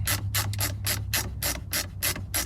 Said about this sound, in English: grab a different screwdriver when you realize your ratcheting one doesn't fit down in the hole